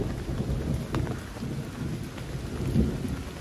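Steady rain pours down over Kampung Sukamaju, a countryside village, in the afternoon. The hiss is dense and even, with a soft low rumble of distant thunder underneath and no voices.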